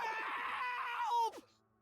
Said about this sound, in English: your inspection is cut short by his disturbing screams